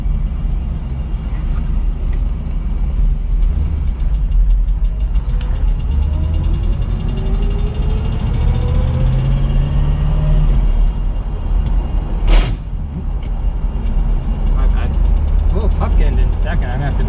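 A 1973 Chevelle SS 454 with a four-speed Muncie idles quietly, its low steady rumble continuing under a voice, with a brief sharp transient partway through.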